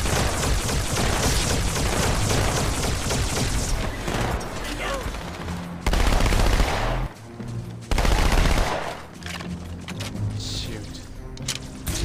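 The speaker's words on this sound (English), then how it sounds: "Giving suppressive recovery fire." Sustained automatic gunfire from the video game Halo 2 during the Delta Halo level, dense and continuous for several seconds, then heavy blasts and scattered shots, with voices talking over the combat.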